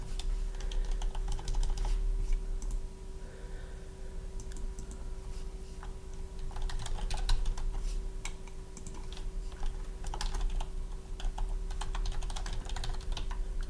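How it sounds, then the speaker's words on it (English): Someone types on a computer keyboard in bursts of rapid, close clicks over a steady electrical hum. The keystrokes are loud and come in fast runs, with short pauses and no talking. "I could actually talk while I'm typing."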